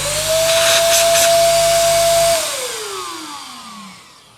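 An electric blower used to inflate a giant balloon wall runs with a loud, steady whine like a vacuum cleaner, then is switched off and spins down with a falling pitch.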